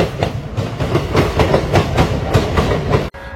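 Rapid rhythmic clickety-clack of train wheels over rail joints near the Bardhaman loco shed, loud and close with a steady beat, cutting off abruptly at the end.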